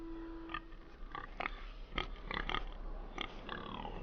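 A pig in Telltale's Game of Thrones video game grunts and oinks in several short, close bursts over a low steady background hum.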